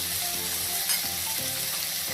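Ginger garlic paste fries in a hot pan with a dense, steady sizzle and hiss, broken by a few soft stirring knocks, close and continuous without any voices.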